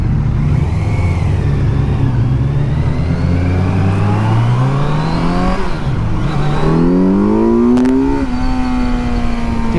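A 2019 Kawasaki Z900 motorcycle engine revs up close and loud, its pitch climbing and falling through several throttle blips and ending on a higher sustained drone.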